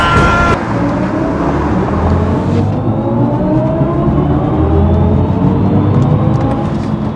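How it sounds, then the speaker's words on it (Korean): A BMW i4 eDrive40 electric sedan accelerates hard, giving a loud sustained rising electric-motor whine with road and wind roar that builds steadily, heard alone from inside the car. "마지막 가속 구간이 나왔으니까 한번 여기서 밟아보겠습니다"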